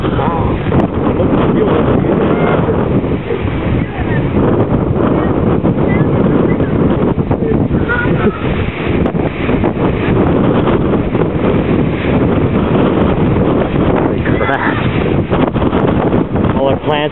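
A strong windstorm in Salt Lake City roars and buffets the microphone in a loud, continuous rush with no let-up, while voices can be heard faintly beneath the gusts.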